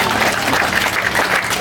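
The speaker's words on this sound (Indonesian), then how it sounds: "Tepuk tangan untuk Bapak Bupati." Applause from a church crowd for the district regent at a roof-replacement celebration, a steady dense wash of clapping that holds for the whole short stretch.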